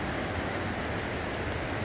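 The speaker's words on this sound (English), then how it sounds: "And it's begun to rain again, so I might have to put on my rain jacket." Steady rain falls on a forest trail in Algonquin Park's Highland backpacking area, a constant dense hiss with no voices.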